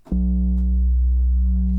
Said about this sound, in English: We're just going to use some like synth bass,